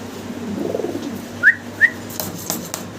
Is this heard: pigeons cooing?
yes